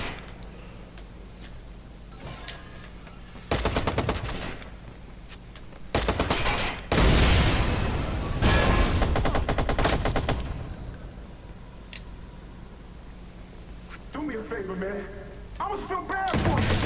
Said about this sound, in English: U100 as a 5-star machine gun